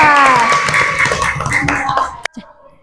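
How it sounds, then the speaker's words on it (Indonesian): A classroom of students claps together, a dense burst of many hands under voices that cuts off abruptly, followed by a couple of scattered claps. "tepuk tangan untuk kita semua"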